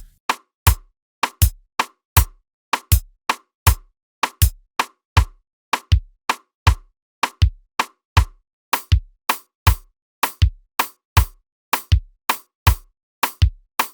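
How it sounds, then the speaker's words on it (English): A steady, slow zouk kizomba percussion groove made in FL Studio: sharp rim clicks, light hi-hat ticks and shaker hits with a low tom thump, repeating evenly and loud throughout. "And play rim shot, hi-hat, shakers and tom to sound like this."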